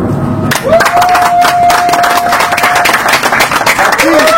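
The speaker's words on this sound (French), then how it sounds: "je sollicite vos vifs cris et applaudissements" A crowd celebrating the 57th birthday of President Félix Tshisekedi, hosted by the Fatshi association, cheers and claps in a dense, continuous roar, while a sustained whistling horn tone rides above the noise throughout.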